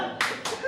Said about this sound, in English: Round of applause for the technical